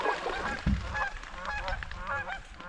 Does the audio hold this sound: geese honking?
yes